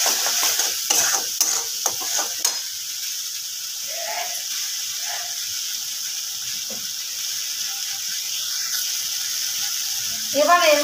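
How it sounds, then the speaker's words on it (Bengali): Salted spice masala for mutton keema aloo dum is stirred and sautéed in a pan; brisk scraping strokes come first, then a quieter steady sizzle with occasional light scrapes and a final louder stir. "ভালো করে মশলাটাকে কষে নিতে হবে।"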